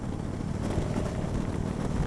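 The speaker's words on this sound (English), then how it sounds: "The engine sounds great on this. I really like the engine." A Victory Vegas 8-Ball motorcycle engine drones steadily while riding, with a constant rumble and broadband roar as it cruises along, with no voices over it.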